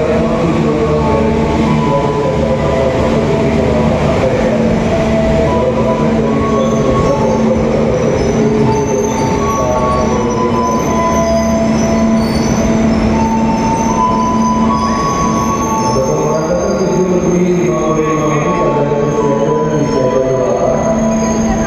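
A Pangrango economy train pulls into Bogor station with a loud, continuous rumble of wheels and machinery, with metallic squeal tones rising and falling over the steady roar.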